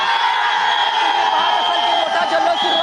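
Indian cricket fans celebrate the T20 World Cup win over New Zealand with a loud, continuous crowd roar of cheers, whoops and shouting voices, dense and close throughout.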